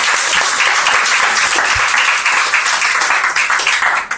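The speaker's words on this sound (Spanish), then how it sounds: "Aplauso." Audience applause at a church testimony gathering, a loud, dense burst of clapping from a crowd held steadily, fading slightly at the very end.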